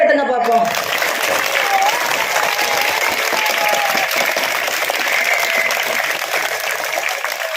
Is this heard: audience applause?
yes